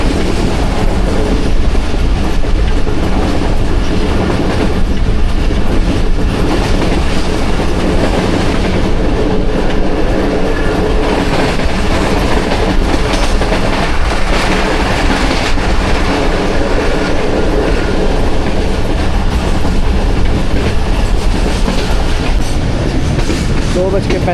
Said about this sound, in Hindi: पास हो रही है 49 जाफर एक्सप्रेस।